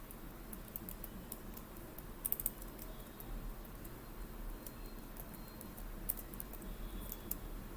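Soft, steady typing on a computer keyboard, a continuous patter of light key clicks with a few slightly louder taps, close and without talk.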